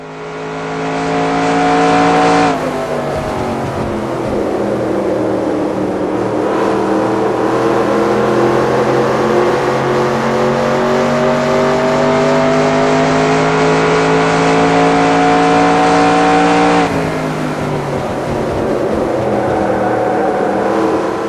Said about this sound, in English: Keep it close to the wall and at full throttle as you hit the line to start another lap.